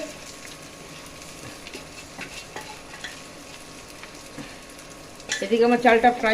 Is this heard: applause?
no